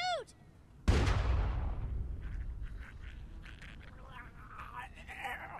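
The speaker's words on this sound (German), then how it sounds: "I told you not to shoot." A single sharp, loud gunshot rings out in The Walking Dead video game, followed by a long rumbling decay and scattered echoes, with a brief voice just before it.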